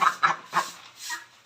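Chickens cluck in three short bursts close by, followed by a softer, longer call; no voices are heard.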